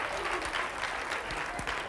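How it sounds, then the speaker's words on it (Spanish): An audience at a children's classical concert applauds for two double bass players, a dense, lively burst of clapping that stays fairly loud, with brief voices mixed in. "un aplauso para ellos, a los dos"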